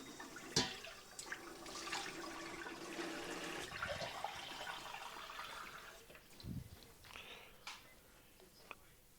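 Water runs in a house in a quiet, faint wash with trickling and splashing, a sharp knock near the start and a low gurgle later, fading toward the end.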